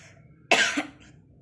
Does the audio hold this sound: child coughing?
yes